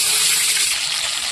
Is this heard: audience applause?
no